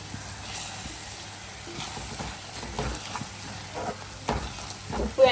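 Prawns and onions fry in a pan, a steady close sizzle with scattered pops and occasional stirring scrapes that grow louder toward the end, with no talk over it.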